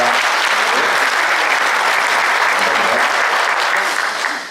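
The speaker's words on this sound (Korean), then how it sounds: "우리 송재 위원장님한테도 큰 박수 좀 부탁드리겠습니다" An audience at an urban regeneration forum gives a committee chair big applause, a loud, dense and continuous clapping that holds steady and starts tapering at the end.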